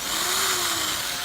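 A powerful drill with a hexagon-head bit rips into wood for a garden box, giving a steady, loud, grinding whine that holds constant throughout.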